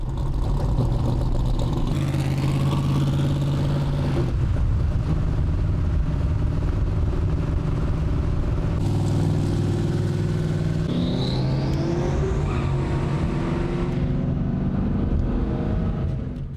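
An 1800 hp Ford Mustang driving on the road, its engine a loud, steady, close drone with shifts in pitch as it changes gear and speed, carrying on for the whole stretch.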